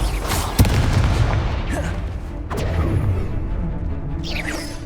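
An Incendio fire spell is cast in Hogwarts Legacy, with a sudden booming burst and whooshing flame-like rushes amid continuous game ambience and scattered sharp hits.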